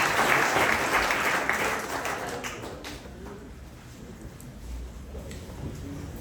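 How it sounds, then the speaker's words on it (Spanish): Church congregation applauding for Jesus during a sermon, dense clapping loudest at the start and thinning into softer scattered claps. "denle un aplauso a Jesús."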